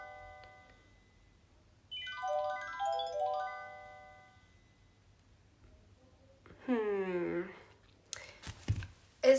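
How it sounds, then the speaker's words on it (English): A doorbell-style ringtone plays as a short melodic chime sequence through a device speaker indoors in a house. Speech follows it, and there are clicks near the end. "That one kind of sounds more like a doorbell."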